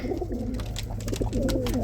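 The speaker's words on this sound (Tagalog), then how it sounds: "Kakagulo yung mga kalapati natin mga kalapatid." Pigeons coo in low, throaty bursts close by aboard a ship, several birds overlapping in a continuous murmur.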